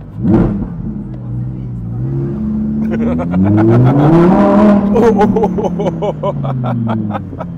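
A luxury car engine revs hard and accelerates nearby in Switzerland, its rising and falling pitch sweeping up to a loud roaring peak before easing off, with brief voices mixed in.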